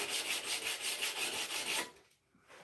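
Knife blades are sanded by hand with 120 grit sandpaper: close, quick rhythmic rasping strokes that continue evenly, then stop abruptly.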